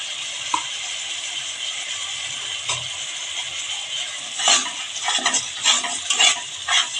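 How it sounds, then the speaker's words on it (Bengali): Spice paste is sautéed for a bhangar fish masala curry, with salt in the pan. A steady sizzle plays under quiet stirring, then louder scraping strokes of a spoon against the pan arrive in bursts during the second half. "কাঁচা গন্ধটা না যাবে ততক্ষণ আমি কষিয়ে নেব"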